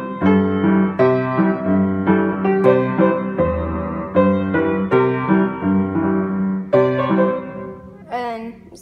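Piano playing with both hands together, a steady run of chords over low bass notes with a repeating rhythm, close and clear with no talking.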